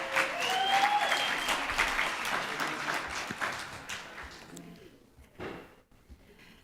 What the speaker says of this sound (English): I think if we clap loud enough